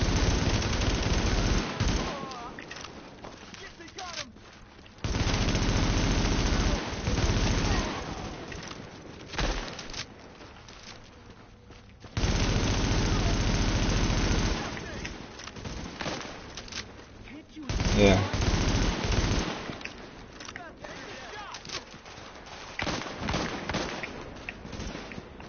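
Gunfire in the video game The Division beta: repeated bursts of automatic weapon fire, loud and close, separated by brief quieter gaps across the whole stretch.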